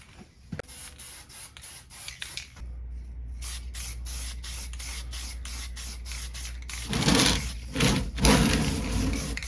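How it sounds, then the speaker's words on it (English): Lacquer clear coat hisses from a spray can onto the body of a WPL Toyota Land Cruiser RC car in bursts, with short pauses between passes, a low steady hum underneath, and a louder, fuller spray near the end. "So now we're gonna hit it with lacquer clear coat."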